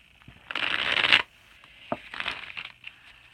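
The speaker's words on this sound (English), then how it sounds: "I'm going to stop it right here after the shuffle." Tarot cards are shuffled in two quick riffling bursts, close and crisp, separated by a short pause and a few soft taps.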